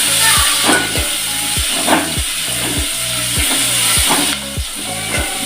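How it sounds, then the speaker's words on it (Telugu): Chopped onion and tempering spices fry in a pan for a tomato charu, a steady close sizzle with rhythmic low clanks of stirring repeating about every half second. "ఉల్లిగడ్డ, ఈ పోపు అంతా బాగా ఫ్రై అవ్వాలి ఫ్రెండ్స్"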